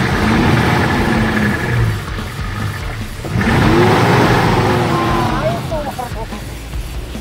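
A Nissan Patrol engine revs hard in two long surges with a short easing between them, loud and close, while people talk over it.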